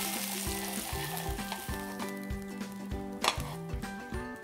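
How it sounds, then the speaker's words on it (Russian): Kung Pao chicken sizzles in a hot pan while a utensil stirs and scrapes, with a steady hum and occasional clinks, close and moderately quiet. "Еще раз я перемешиваю и перекладываю вот сюда."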